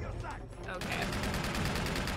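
Rapid automatic gunfire in the video game Uncharted 2, a steady stream of sharp shots that kicks in partway through and continues densely to the end.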